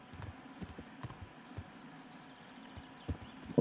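Faint, irregular hoofbeats of a horse in Kingdom Come: Deliverance clop at a slow walking pace over a low background hum, soft and somewhat distant.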